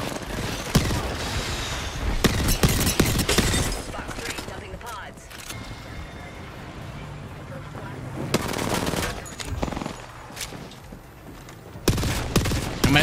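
Rapid automatic gunfire from the video game Apex Legends comes in loud, dense bursts separated by short gaps, with excited players talking over the shooting.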